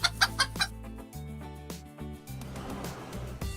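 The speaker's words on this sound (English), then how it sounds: "And here the hens came out of the tram." Cartoon hens cluck in a few quick, close calls, followed by a soft animated backing of tones and light effects.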